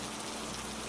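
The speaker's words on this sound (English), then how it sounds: "The rain continued to fall" Steady background rain falling on a surface, a soft, even wash of noise with no breaks, faint and continuous.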